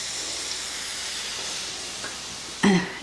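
Chisesi ham and onions cooking in a pot make a steady, moderate hiss of steam and sizzle, then a sharper burst of clatter near the end, with no talk.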